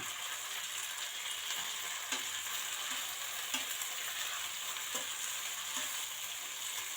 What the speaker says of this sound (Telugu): బాగా ఫ్రై అయిపోవాలి పుదీనా